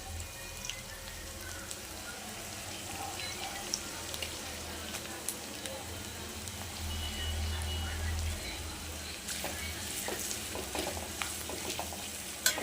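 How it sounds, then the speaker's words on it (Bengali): Onions for chicken biryani fry over a full gas flame as they are stirred, giving a steady sizzle with scattered clinks and scrapes of the spoon. Faint background noise runs underneath. "তো পেঁয়াজটা যখন আমরা দেবো তখন একটু এমনি করে ভালো করে নেড়ে নেবো"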